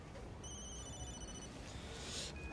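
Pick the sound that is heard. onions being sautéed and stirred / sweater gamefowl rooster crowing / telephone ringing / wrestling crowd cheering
telephone ringing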